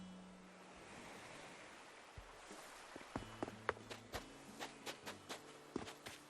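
Soft ocean surf washes on an island beach in the video game Animal Crossing: New Horizons, then footsteps join in a regular rhythm of light crunchy steps over the quiet waves.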